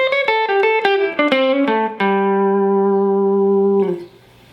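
Electric guitar plays a quick jump blues lick that mixes major and pentatonic scale notes: a run of bright plucked notes, then a ringing chord held for about two seconds before it is cut off.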